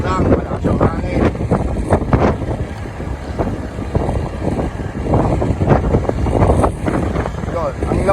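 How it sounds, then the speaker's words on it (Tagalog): Strong wind buffeting the microphone outdoors by a bypass road near Cabanatuan City, loud rumbling gusts throughout with a voice talking over it. "Malakas yung hangin."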